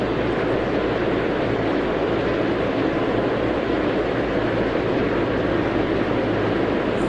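A Saudi Gold airliner taking off from Jeddah in Tower!3D Pro, a steady loud broadband jet roar that holds constant throughout, with no voices.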